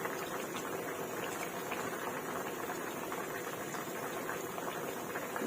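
Winter melon curry with pork ribs and lemon basil bubbles in an open pot, giving a steady, dense hiss and fizz of boiling liquid that holds at an even, moderate level throughout.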